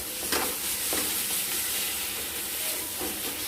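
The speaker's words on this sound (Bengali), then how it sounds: "দিয়ে এটাকে ভালো মতো করে কিন্তু কষতে হবে।" Ground spices sautéed in a pan after a splash of hot water, giving a loud, dense, continuous sizzle and hiss with a few sharp spatters and clicks throughout.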